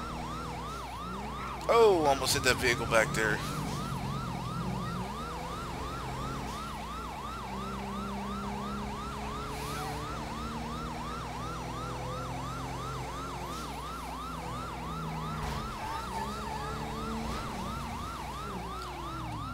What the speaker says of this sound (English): So I'm going to toggle my siren over here so we can get vehicles to stop.